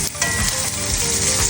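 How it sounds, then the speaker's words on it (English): A T-bone steak sizzles loudly and steadily in a cast iron skillet, a dense continuous frying hiss close up with no voices. "Cooking yet my second T-bone steak today"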